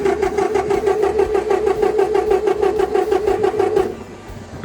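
A skid steer engine cranking but failing to start because of a faulty fuel pump: a fast, even chugging that runs for about four seconds and then cuts out, leaving low background noise.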